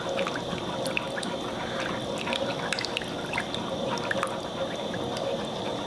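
Liquid simmering in a cooking pan for salmon croquettes, a steady soft bubbling and hiss with scattered small pops and ticks, continuous and close.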